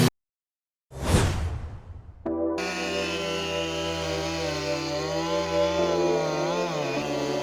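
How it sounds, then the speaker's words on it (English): A Husqvarna 572 XP chainsaw cuts into wood after a whoosh, then settles into a loud, steady high-revving drone with a shifting pitch that holds to the end. "Watching them use the chainsaw with the sophistication and virtuosity of a skilled craftsman"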